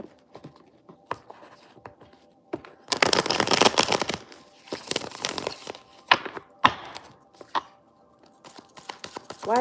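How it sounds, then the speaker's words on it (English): Tarot cards being shuffled by hand, quiet riffling bursts and soft taps and slides of the deck, with a longer flurry in the middle and scattered short clicks, close and intimate with no talking. "let me give this a quick shuffle"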